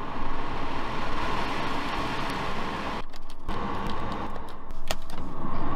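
Electric windows on a heavily damaged BMW whir up and down as their motors hum steadily inside the car, with faint knocks and clicks between the runs.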